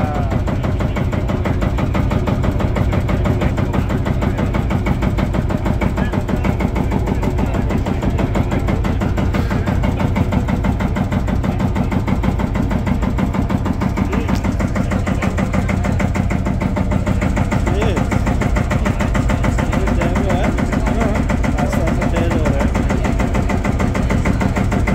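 An old Field Marshal tractor engine, started by firing a cartridge, runs with a loud, close, steady thumping idle that holds throughout, its low rhythmic chugging constant.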